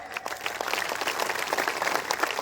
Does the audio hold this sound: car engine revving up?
no